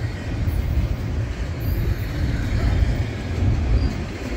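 A slow-moving eastbound Union Pacific train passes close by with a steady low rumble and faint rolling wheel noise, continuous and fairly loud throughout.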